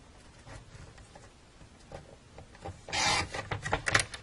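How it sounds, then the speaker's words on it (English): A paper trimmer blade slides across cardstock, giving soft scraping rasps that swell into a louder cutting swipe near the end, close and quiet with no talk. "Trim that piece, and trim that one."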